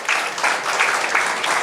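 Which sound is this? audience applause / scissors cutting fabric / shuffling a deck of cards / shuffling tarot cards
audience applause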